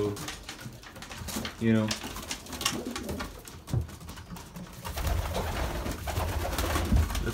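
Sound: young pigeons calling to be fed

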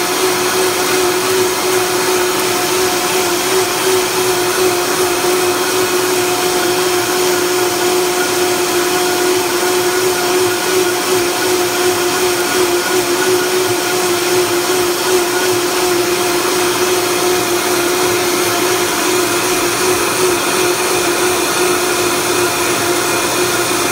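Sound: blender blending sea moss drink

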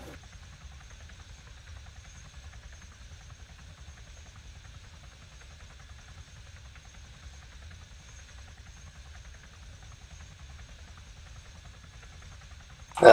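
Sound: helicopter flying

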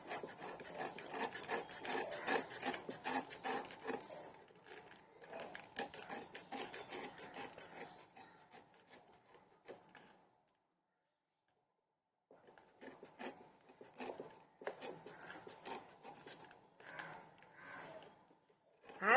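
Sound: cutting raw jackfruit with knife

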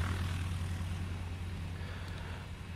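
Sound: aircraft engine spinning up

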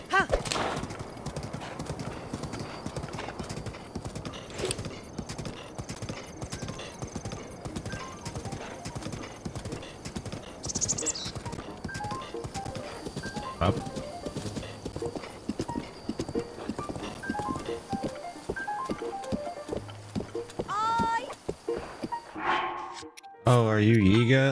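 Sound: horse hooves and neighing in video game Zelda Breath of the Wild

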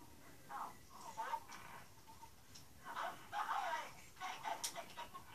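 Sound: dog in a video game

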